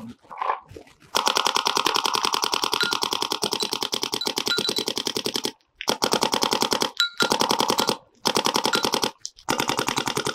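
A paintball marker firing GI Frostbite paintballs at around 270 fps rattles off long, loud, rapid-fire bursts, each volley a steady stream of sharp shots, broken by short pauses between strings.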